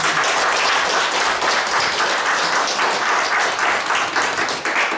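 Loud, dense applause from an audience at a book launch celebration for a Buddhist monk's new book, with a thick wash of clapping holding steady from start to finish.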